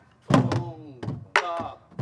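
A Korean sori buk drum is struck in a few sharp, hollow strokes during jangdan rhythm practice, spaced unevenly, while a voice chants the drum syllables that mimic the beats.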